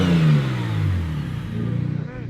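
A single-turbo BMW 335i fitted with a T51R turbo revs up loudly close by, then drops back to a throbbing, pulsing idle. Voices can be heard faintly underneath.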